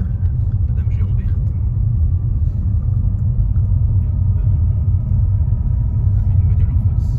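A Ford Mustang engine rumbles steadily from inside the car as it accelerates gently, a loud low drone running throughout while people talk over it.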